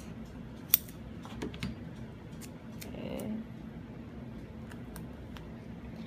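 Scissors cut through a piece of vinyl with faint, close snips and soft crinkling in an otherwise quiet room.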